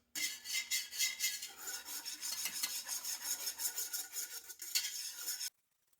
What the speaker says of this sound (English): I'm using a metal whisk just so I can make sure I scrape the bottom so nothing sticks